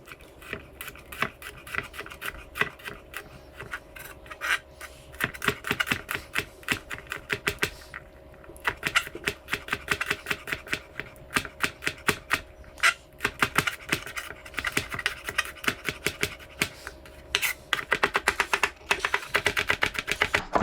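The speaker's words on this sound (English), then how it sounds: "we're going to mince this really finely" A kitchen knife finely mincing green mango salad ingredients on a cutting board, rapid irregular chopping taps close up, in dense bursts with brief pauses, no talking.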